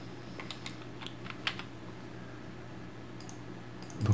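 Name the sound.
typing an Excel formula on a computer keyboard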